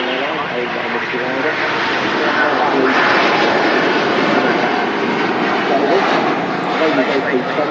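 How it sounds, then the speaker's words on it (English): A Singapore Airlines A350-900 jet climbs out of Manchester Airport, its engine roar steady and loud across the whole stretch, swelling slightly midway with a broad rushing texture, while someone talks over it. "There she goes, climbing out of Manchester. The Singapore Airlines A350 900"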